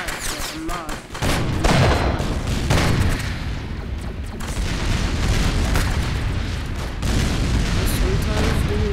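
Dense, continuous gunfire in the Ragdoll Engine video game, overlapping booming shots that barely let up over several seconds, with a voice talking over the noise.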